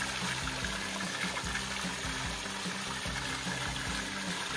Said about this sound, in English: Small stream, but perfect place to get water